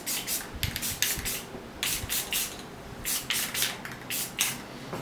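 Aerosol spray paint applied to a hunting trail camera in short repeated hissing bursts of varying length with brief gaps between, close to the microphone.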